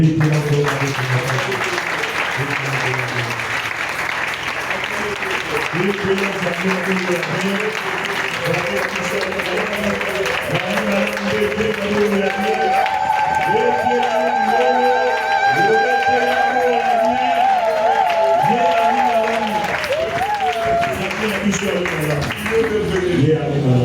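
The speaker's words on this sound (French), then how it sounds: "Acclamons très fort." A church congregation applauding loudly, sustained dense clapping running throughout beneath sung voices and music that swell in the second half.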